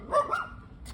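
Dogs barking at a fence, a couple of sharp barks close by in a short burst, followed by quieter background noise.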